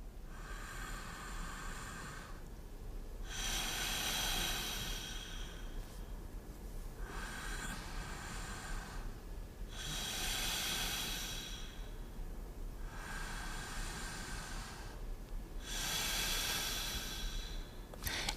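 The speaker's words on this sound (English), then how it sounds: "try breathing into the ribs, letting the hands open to the sides and lift up" Deep yoga breathing into the ribs, slow and rhythmic, with about six long airy inhale-exhale cycles, each a broad hissing swell of breath, close and steady over a faint room hum.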